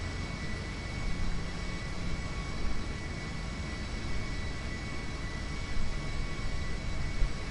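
An airplane lands in a GTA game, a steady, loud roar of engine and rushing wind that holds at an even level throughout with only slight swells.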